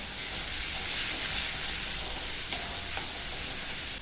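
Agri masala, turmeric and spice powders being mixed in a pan, a steady even hiss of sizzling oil with faint stirring taps, constant and close, no speech.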